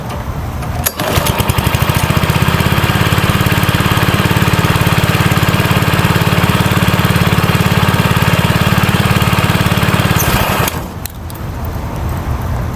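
Cub Cadet ST 100 riding lawn mower engine, governed down, starting up and running at a steady, loud, close drone for about ten seconds before cutting back.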